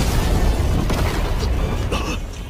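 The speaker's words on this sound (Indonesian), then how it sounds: "Topeng Ye Chen hancur akibat ledakan dari dua energi kekuatan yang beradu di udara." A dense, roaring blast from two colliding energy attacks in the air in the animated series Legend of Martial Immortal fills the clip, heavy and sustained with rumbling low end, slowly fading toward the end.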